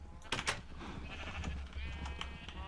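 Sheep in the Minecraft game bleat several times in short, wavering cries over a low background hum, fairly faint, with no talking.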